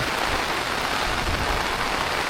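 Heavy rain pours down during a walk under a small umbrella, a dense continuous roar of drops, loud and close throughout, without speech.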